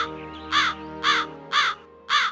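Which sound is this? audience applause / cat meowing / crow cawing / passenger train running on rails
crow cawing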